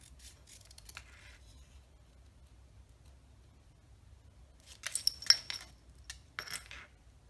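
Scissors cutting a thin strip of cardstock for a stamped card, a few quiet snips near the start followed by two clusters of crisp close cuts.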